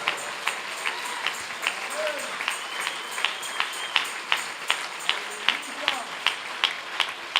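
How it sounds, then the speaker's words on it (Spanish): A church congregation at a convention worship service claps in a steady rhythmic beat, sharp regular claps over a soft murmur of voices and distant shouts. "pido un aplauso muy frenético para Él, con todo el alma, con todo el corazón"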